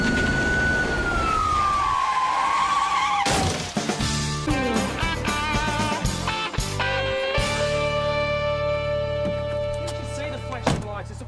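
A police car siren from an Australian police drama, used to pull over a driver with expired registration at an intersection. The wailing tone falls in pitch over the first few seconds, then gives way to a clatter of other noises.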